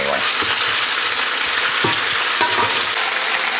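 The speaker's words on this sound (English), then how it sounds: "so these onions and peppers are cooking down" Onions and peppers cook down in a skillet with a loud, close, continuous frying sizzle and a few soft stirring knocks, no talk.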